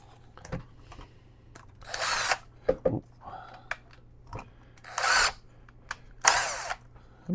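A DeWalt power drill with a magnetic tip add-on drives a screw into a piece of wood in several loud, short bursts spread between quiet gaps, with faint talk in between.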